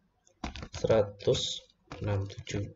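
Keys tapped on a laptop keyboard while entering an IP address, light quick clicks sitting mostly beneath a person talking throughout.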